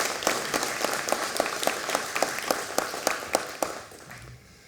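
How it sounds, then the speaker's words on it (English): Applause from an audience at an industry breakfast event, a steady round of clapping with sharp, dense hand claps for about four seconds before it tapers off toward the end. "A quick round of applause."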